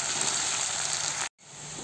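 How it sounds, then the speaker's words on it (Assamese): Onions fry in a pan for palak chicken, giving a steady close hiss and sizzle that drops out briefly, then resumes. "এতিয়া পিঁয়াজখিনি অকণমান ৰঙা হোৱালৈকে ভাজিম"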